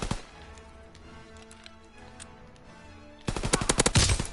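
Gunfire in the Call of Duty WWII video game on PS4: scattered faint shots over a low game hum, then a sudden burst of loud, rapid close-range shots near the end.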